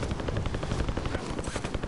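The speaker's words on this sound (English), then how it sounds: "Watch myself get obliterated by helicopter blades." Helicopter rotor blades in a multiplayer video game, a dense continuous chop with rapid rhythmic thumping and sharp bursts layered over it, loud and steady throughout.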